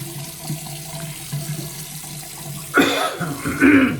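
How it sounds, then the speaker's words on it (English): Hot water from a tap splashing into a bathroom sink during a straight razor shave, a sudden loud gush starting near the end after quiet room noise. "gonna run some hot water again, put my brush down in."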